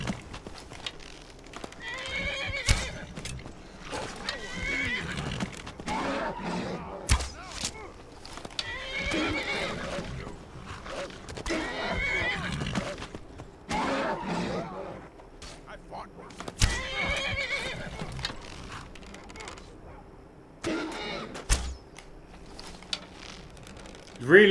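A horse in the video game Skyrim Special Edition whinnies and neighs repeatedly while hooves clop, mixed with combat scuffles and someone talking intermittently over the game sounds.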